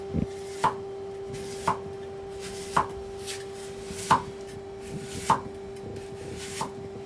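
A knife slicing cabbage thinly on a cutting board for Dutch keto coleslaw, with distinct rhythmic chops roughly once a second against a faint steady hum, no voices.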